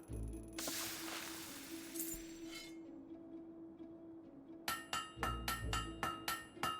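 A blade being hammered at a forge in Fable 3: after a hiss and a low quiet hum, a quick series of sharp, ringing metal-on-metal strikes lands in a steady beat, close and clear.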